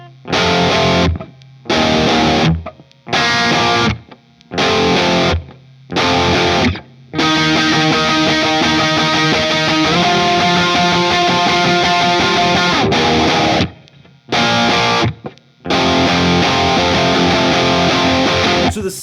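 Distorted electric guitar strums the chorus in choppy bursts separated by sharp silences, then a longer sustained stretch of chords in the middle before the stop-start pattern returns; loud and close with no voices.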